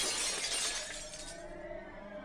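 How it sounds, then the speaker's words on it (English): Glass-like shattering as a silver bullet smashes through an invisible wall, a bright crash up front that rings and fades into a softer lingering tail. "The silver bullet smashed through the invisible wall."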